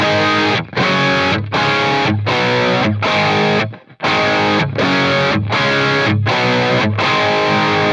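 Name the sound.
distorted electric guitar through V30 speaker cabinet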